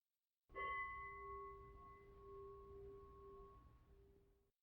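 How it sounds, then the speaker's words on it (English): A meditation bell is struck once to close a meditation session, ringing out with a clear bright tone and long humming sustain that slowly decays over several seconds in quiet surroundings. "we'll hit the bell to end the meditation"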